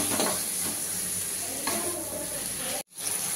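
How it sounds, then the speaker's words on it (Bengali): Chicken pieces are stirred and fried (kosha) in a pan, giving a close sizzle with scraping stir strokes. The sound cuts out briefly near the end before the sizzle returns. "চিকেনগুলো এবার দিয়ে আমি এটা ভালো করে কষাতে থাকি।"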